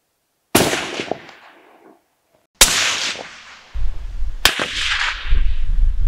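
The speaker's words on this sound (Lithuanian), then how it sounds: "Bandom pirmąjį, šaunam vėl 3 šūvius, matuojam greitį" Three sharp rifle shots fired through a suppressor during a suppressor test, each a sudden loud crack with a decaying tail, spaced roughly two seconds apart, with a low rumble of background noise after the second.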